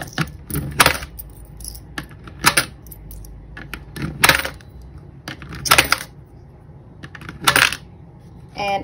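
Coins rattle and clatter through a coin counter in repeated bursts of metallic jingling, loud and close, separated by short quieter gaps.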